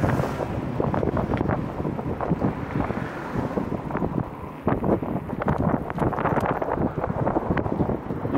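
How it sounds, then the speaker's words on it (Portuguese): Gusty wind buffets the microphone in loud, rough bursts during a bike food delivery in the US, with no talking. "E o vento continua, velho. É o dia inteiro assim."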